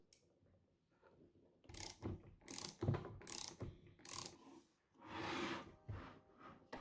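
Clamp collar being loosened on a Fanatec steering wheel shaft, a quick run of close ratcheting clicks and metallic mechanism sounds in short bursts, with no talking.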